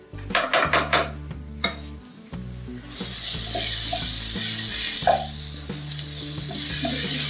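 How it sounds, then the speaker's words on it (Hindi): Spoon clinks against a pan while chopped green chillies are stirred into spiced potato samosa filling, followed by a steady loud sizzle of frying with occasional scraping, close and without speech. "अब इसमें 2 से 3 अदद हरी मिर्च कटी हुई डाल देंगे।"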